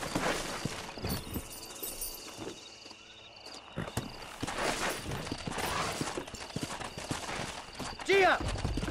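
Horse hooves clip-clopping in the Red Dead Redemption video game, a rhythmic run of hoofbeats close by under game voices and ambient sounds, with a brief louder burst near the end.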